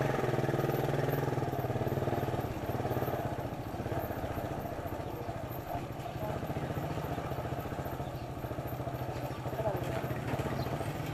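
Tricycle and motorcycle engines on a quiet street in Balut, Tondo, a steady low putter and rumble of small motors idling and passing nearby, with clattering along the way.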